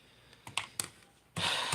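A few sharp computer keyboard key clicks, spaced and fairly close, followed by a burst of rapid, louder typing during a casual evening stream; no one speaks.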